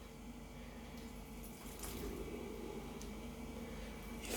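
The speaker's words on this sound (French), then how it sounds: "On va arroser un peu tout." Water sprays steadily into a snake's terrarium during watering, a continuous close hiss that grows slightly louder partway through.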